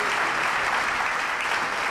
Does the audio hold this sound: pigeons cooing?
no